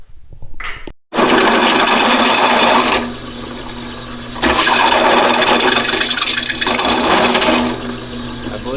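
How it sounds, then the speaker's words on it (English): A drill bores holes in metal bearing brackets for a 111 hp buggy build, a loud, steady mechanical whir that starts abruptly and runs almost continuously, with slight changes in pitch and load. "First thing I'm going to do is just get all these holes drilled and cut out."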